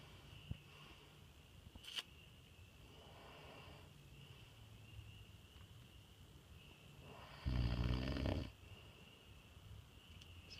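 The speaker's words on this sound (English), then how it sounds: "You're snoring like a mother." A man snores while asleep on a fishing trip, slow faint breaths repeating every few seconds and one louder rasping snore near the end, over a quiet steady hum.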